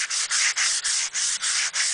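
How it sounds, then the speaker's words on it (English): Light hand-sanding of Brazilian mahogany for a lyre harp: about seven quick, even back-and-forth rasping strokes, close and steady, with brief dips between strokes and no voices. "I've just started lightly sanding that"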